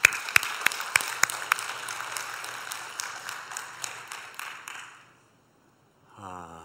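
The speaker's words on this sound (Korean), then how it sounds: "우리 예배를 이끄는 찬양팀과 성가대회에서 감사의 박수를 합니다" Congregation at a church worship service applauding the choir and worship team, a burst of claps that thins into scattered hand claps and fades into silence after about five seconds, followed by a faint tonal sound.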